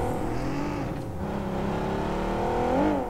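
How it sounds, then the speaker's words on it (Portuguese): Car driving in the PUBG Mobile video game: a steady engine drone with shifting whine that rises and bends near the end, continuous and moderately loud, with no talking. "Olha o carro lá batendo lá no drop lá."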